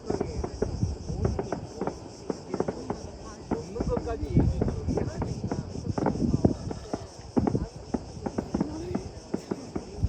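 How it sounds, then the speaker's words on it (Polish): Fireworks go off outdoors in Athens in rapid, irregular crackling pops of varying loudness, with a steady high insect-like buzz and faint voices underneath. "O, i fajerwerki na naszą cześć."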